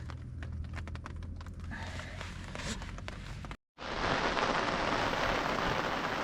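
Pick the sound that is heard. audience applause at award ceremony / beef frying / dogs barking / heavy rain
heavy rain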